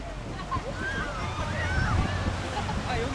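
Ocean surf rolls and washes ashore at Songjeong Beach in Busan, a steady low rumble of breaking waves with wind buffeting the microphone.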